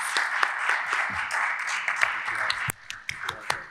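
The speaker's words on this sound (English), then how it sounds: "let's please give a round of applause to our esteemed panelists" Audience at a public safety panel session applauds the panelists, a moderate burst of clapping that thins out partway through into a few scattered claps.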